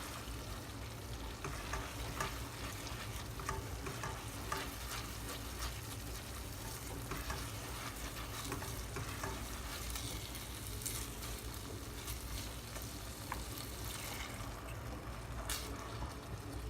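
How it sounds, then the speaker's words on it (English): Mushroom risotto rice being stirred in a pan over medium-high heat, a steady broadband sizzle with continuous scraping and stirring textures throughout, no voices. "So you want to keep stirring, unlike how you otherwise cook rice."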